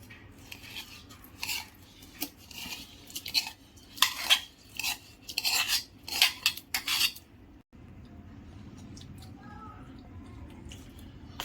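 Soaked ragi idli rava batter is mixed in a bowl, giving a run of irregular scraping, clinking strokes at close range, followed by a quieter stretch of faint handling noise.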